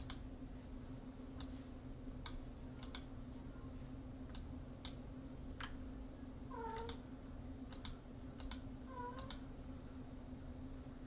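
A cat meows faintly a few times, short rising calls that come late and sit low over a steady electrical hum and scattered light clicking, with no talk.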